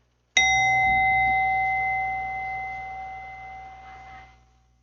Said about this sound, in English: The second chime.